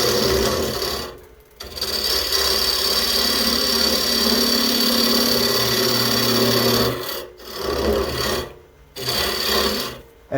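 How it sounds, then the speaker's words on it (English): A steady grinding rasp of a carbide tool hollowing a maple kuksa on a running lathe, loud and close, with brief pauses as the cutter lifts off the wood. "So I'll just use the carbide as my hollowing tool."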